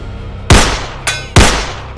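Two sharp, loud rifle gunshots about a second apart, each with a ringing decay, with a faint metallic clank between them.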